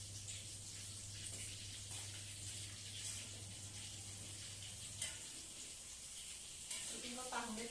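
Tofu frying in hot oil in a home kitchen, a steady, faint hiss and crackle that runs continuously throughout, with a low hum underneath and a voice briefly entering near the end.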